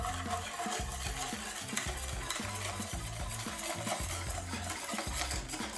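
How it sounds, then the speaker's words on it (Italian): A spoon or whisk stirs thickening pastry cream in a small saucepan over a low flame, producing quick, rhythmic scraping strokes that continue steadily without any talk. "versa tutto nel pentolino e riaccendi il fuoco a fiamma bassa fino a quando la crema si addenserà"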